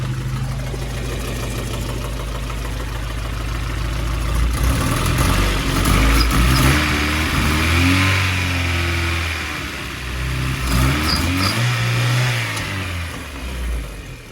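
Honda CRX with a DOHC ZC engine and freshly wrapped exhaust running close by, a steady idle that swells into a few moderate revs midway before settling back down.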